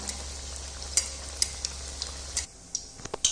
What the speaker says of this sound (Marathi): ह्याला लालसर होईपर्यंत आपण आता ह्याला तळून घेणार आहोत